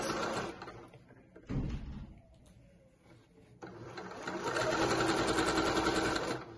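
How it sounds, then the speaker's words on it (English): A sewing machine stitching a dress seam, including short back stitches at the start and end, runs in loud, rapid whirring bursts separated by a quieter pause, fairly close. "And I'll do a little back stitch at the beginning and the end."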